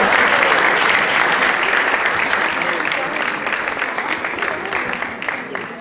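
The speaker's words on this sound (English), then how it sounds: "Give these lovely kids another round of applause." Sustained applause from an audience for children at a non-violence commemoration event, a full dense roar of many hands clapping that carries on steadily and eases slightly toward the end.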